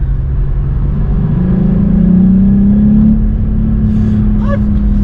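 A VW Up GTI's three-cylinder engine drones steadily from inside the cabin, its low hum rising gradually in pitch as the car pulls, with faint background noise throughout.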